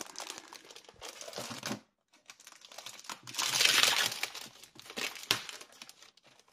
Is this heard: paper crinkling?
yes